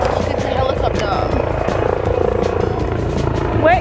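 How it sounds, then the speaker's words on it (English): A helicopter's rotor thumps steadily nearby, a continuous rhythmic chop with some background noise. "It's a helicopter."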